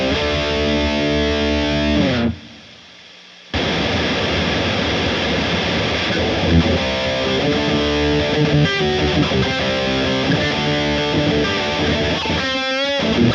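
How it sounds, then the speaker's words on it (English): Electric guitar played through a distorted amp channel with heavy gain and a delay pedal, dense sustained chords ringing with echoes and constant hiss, broken by a short silent gap and ending in a rising swept tail. "I am on the distorted channel with a ton of gain."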